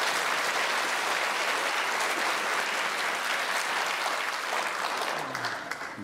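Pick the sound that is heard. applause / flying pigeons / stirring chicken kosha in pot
applause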